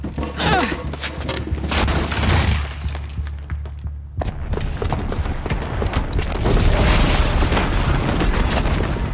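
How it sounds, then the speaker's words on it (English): A booby-trapped bomb explodes in the video game Horizon Zero Dawn, a dense series of loud blasts, crashes and debris clatter with low rumbling. Game dialogue and music run alongside. "the booby trap on the bomb downstairs is gonna get set off"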